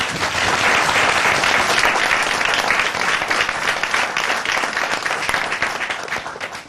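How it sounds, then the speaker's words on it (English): A large audience claps loudly and continuously for the president of Ghana at a televised presidential forum, a dense, even roar of applause that fades gradually toward the end. "A round of applause for the president."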